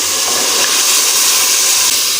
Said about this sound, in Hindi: मटरों की कर लेंगे हम अच्छी तरह से भुनाई 5 से 6 मिनट के लिए